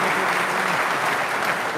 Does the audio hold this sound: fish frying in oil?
no